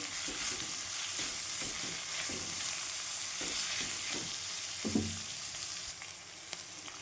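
Palak paneer ingredients roasting in a pan: a soft continuous sizzle with repeated scraping strokes of a spoon, a louder clatter near the end, then a quieter fry with no talking.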